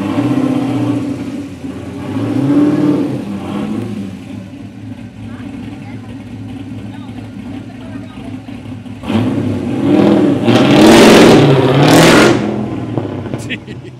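A black car's engine idles and then revs hard in a few loud surges outside the Toretto house from Fast & Furious, with people talking over it.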